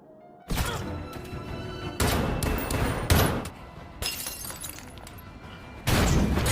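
Loud bursts of sharp, crashing pistol impacts with shattering debris, coming in several separate blasts separated by brief lulls, like a chaotic gunfight, in the film Commitment.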